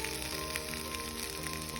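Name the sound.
scarlet gourd sizzling while frying in pan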